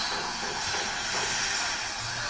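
A renovated steam tank engine on a narrow gauge line in the Balkans puts out a continuous broad steam hiss with a low rumble beneath, steady and close, with no clear chuff rhythm.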